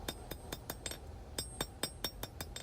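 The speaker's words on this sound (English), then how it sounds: "now we're going to hammer our finger choil for the index finger in a little deeper and a little more round" Sharp hammer blows ring out one by one in an irregular rhythm as a blacksmith hand-forges the index-finger choil of a small skinner knife blade. The strikes are bright and metallic, close by, and there is no talk over them.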